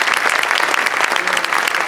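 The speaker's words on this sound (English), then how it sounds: "I think he needs a round of applause." A theater audience at a 50th-anniversary screening at the Cinerama Dome breaks into dense, steady clapping that fills the room.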